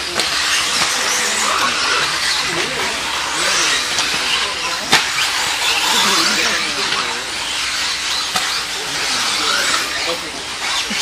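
A 2WD RC buggy races past on a track during an A-main final, its high-pitched electric whine and tire hiss rising and falling as cars pass, with a commentator talking over a PA throughout.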